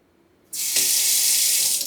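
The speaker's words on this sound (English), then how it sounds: "First, we will turn on the water" A kitchen sink tap is turned on to fill a coffee pot: after a short quiet moment, water bursts out and runs steadily, close and loud, with no voices.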